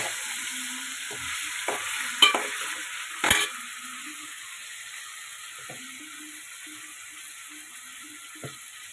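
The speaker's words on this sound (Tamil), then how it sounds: "நல்லா வதக்கிக்கலாம்." Prawn thokku sautéing in a pan gives a soft, steady sizzle, with a few faint clinks and scrapes of stirring scattered through.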